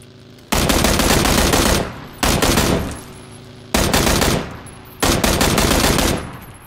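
Gunfire in PUBG Battlegrounds, four loud close bursts of rapid automatic fire, each lasting about a second with short gaps between them.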